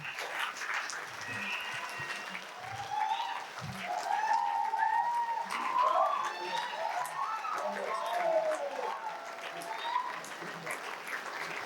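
Steady crowd applause at a medical conference as a doctor is honoured on stage, a dense continuous wash of clapping with a murmur of voices running through it for about twelve seconds.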